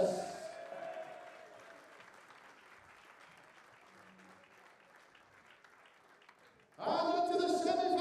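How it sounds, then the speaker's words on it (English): Crowd applause at the Lakeside WDF World Darts Championship fading steadily from a loud start into a faint wash of clapping, before a sudden burst of loud music and announcer-style sound at the end. "let's have a massive round of applause for Ralph"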